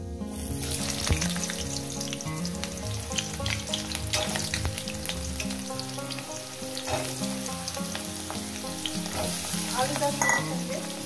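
Potatoes frying in hot oil with black cumin seeds, sizzling loudly and continuously with occasional stirring scrapes and clinks throughout.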